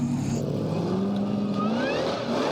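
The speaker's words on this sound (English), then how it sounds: "Bit much grunt from the supercharged Chevy" A supercharged Chevy engine in an off-road 4x4 challenge vehicle revs hard and close, a continuous throaty roar with a slowly rising pitch and no voices.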